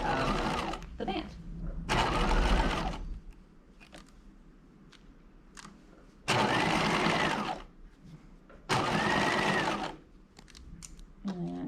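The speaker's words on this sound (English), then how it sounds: "we're going to stitch right in the ditch right here, catching that seam allowance on the inside of the band" A sewing machine stitches in the ditch along a band seam of a top, running in several loud bursts of steady whirring separated by pauses and quieter handling sounds.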